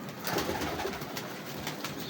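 A golden Kasuri pigeon coos softly with a low, faint murmur, heard quietly among other birds with no one speaking.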